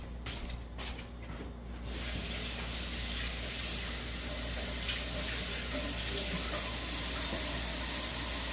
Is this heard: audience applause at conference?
no